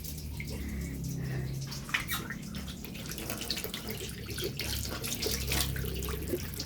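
Water runs from a faucet in a steady, moderately quiet stream, with splashing and dripping that shift in intensity, heard close up without any voices.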